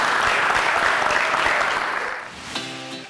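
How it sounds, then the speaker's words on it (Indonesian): An audience at a socialization event breaks into applause, a loud dense wash of many hands that holds steady and then begins to thin near the end as a tonal sound cuts in. "Tepuk tangan untuk kita semuanya."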